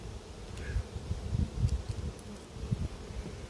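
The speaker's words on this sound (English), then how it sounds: "the bees that have lost their queen" A queenless colony of honey bees at an apiary hums in a low, steady buzz with uneven swells, close and fairly faint, with no voices.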